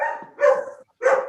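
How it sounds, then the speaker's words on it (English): A dog barks twice, close and clear, two short separate woofs with a brief pause between them and no speech. "And the dog says wow."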